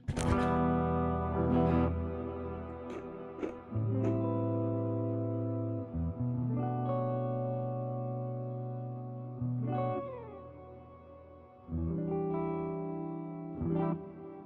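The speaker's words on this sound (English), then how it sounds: "So hopefully all you hear is the reverb added." Sustained chords from a Roland FA-06 keyboard workstation ring out with long, washy reverb tails, notes blooming and decaying into a spacious echoing haze, no voices.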